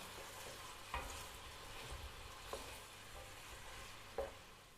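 Onions sauté in a pan at a quiet, close sizzle, broken by three distinct scrapes of a spoon spaced a second or two apart.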